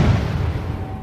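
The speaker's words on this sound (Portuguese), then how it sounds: "Um tiro de canhão vai em direção a Gambino" An anime cannon shot fired toward a battlefield platoon lands as a loud, deep boom that hits at once and then rumbles and fades over about a second.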